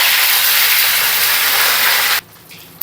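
Curry leaves, fenugreek seeds and a dried chilli hit hot oil in a pan, giving a loud, close, steady sizzling hiss that stops abruptly near the end.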